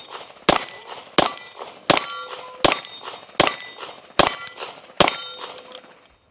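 A Nocturn pistol with a Micro Comp fires 115 grain CCI Blazer rounds at steel targets, seven loud sharp reports and metallic clangs at an even rhythm, each followed by a ringing decay, with no talk.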